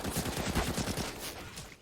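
Rapid bursts of AK rifle fire in Counter-Strike on the Inferno map during a competitive esports match, dense overlapping shots with other gunfire, steady and fairly loud throughout.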